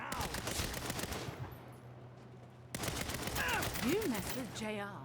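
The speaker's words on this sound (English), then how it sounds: "Let's do some gunfire." Rapid gunfire from the 2022 Saints Row video game, dense automatic bursts with a brief lull, mixed with game effects and voices talking over the shooting.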